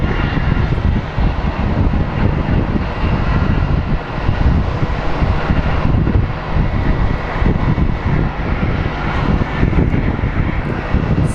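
A United Boeing 737-800 lands at Phoenix Sky Harbor airport with a loud, steady jet engine roar and rushing air that persists without letup, close by, with no voices.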